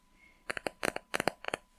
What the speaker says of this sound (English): So I'll be shuffling my cards,